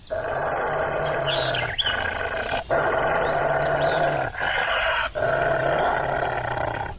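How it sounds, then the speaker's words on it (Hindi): A cartoon wolf growls in a sustained, loud, rumbling snarl, broken into several long growls with short pauses between them, with no speech over it. "तभी भेड़िया उसे देखकर गुर्राने लगता है।"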